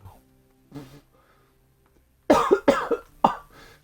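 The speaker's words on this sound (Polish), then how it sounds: "Kaszlę na was." A game character in Risen coughs in a short burst of three or four harsh hacks after a quiet stretch with a couple of faint earlier sounds, fairly close and loud.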